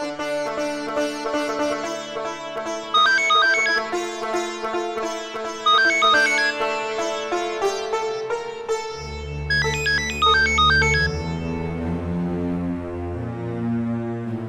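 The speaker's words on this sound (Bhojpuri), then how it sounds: "केकर फोन बा?" A phone ringtone plays as a steady repeating electronic melody, fairly loud and close, with a deeper musical backing joining partway through.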